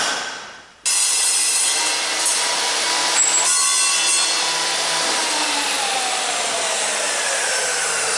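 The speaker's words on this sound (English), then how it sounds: "Who says cheap ass table saws are no good?" A cheap table saw bites into wood after a short spin-up, then holds a loud, steady, high-pitched whine through the cut with no pauses.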